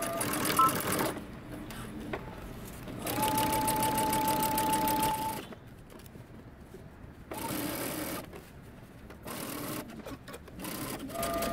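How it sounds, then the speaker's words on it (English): A sewing machine stitching and backstitching a dart on a coat, with fast rattling bursts of stitching that start, stop and restart in several runs, close and loud, separated by brief quieter pauses. "I'm going to start in the center back and I'm going to backstitch."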